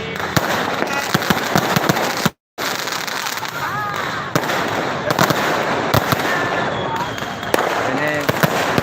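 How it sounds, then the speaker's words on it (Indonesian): New Year's Eve fireworks burst over Soppeng regency in a dense barrage of cracks, pops and booms. Sharp reports keep firing across the whole stretch, with crackling and whistles between them, and a brief dropout interrupts the noise early on. "Ini puncak kembang api di Kabupaten Sopeng"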